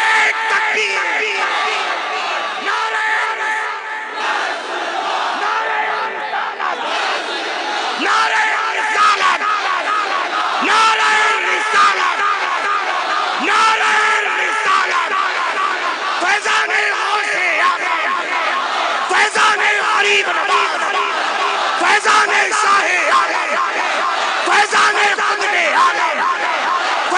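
A large crowd at a religious gathering shouts a slogan in unison in reply to a Naara-e-Takbeer call, loud massed voices surging continuously.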